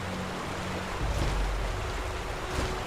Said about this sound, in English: Damn, listen to that water.